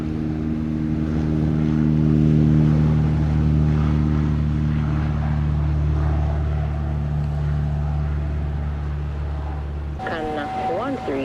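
An airplane taking off at Montego Bay's Sangster International Airport. A steady, loud engine roar with droning tones holds throughout, and a sharp change near the end suggests a radio or camera cut.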